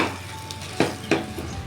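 Puran, a cooked lentil filling, being stirred in a pan after nutmeg-cardamom powder goes in, with soft sizzling throughout and two distinct scraping strokes close by.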